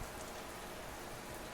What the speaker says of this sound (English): The rain pounded against metal.